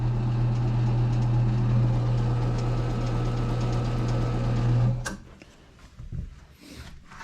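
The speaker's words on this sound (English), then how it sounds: "This is an old 1960s Bushman tire changer." A belt-driven 1960s Bushman tire changer runs with a steady, loud motor hum for about five seconds, then cuts out, leaving faint clunks and rustles.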